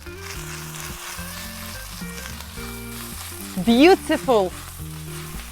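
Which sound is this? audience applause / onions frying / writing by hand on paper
onions frying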